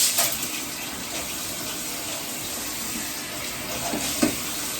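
Tap water runs steadily under a kitchen faucet while sprouts are rinsed, a continuous close splashing hiss with a few brief clinks near the end.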